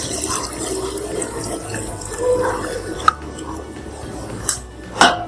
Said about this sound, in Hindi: अब इसमें शामिल करेंगे ये यखनी।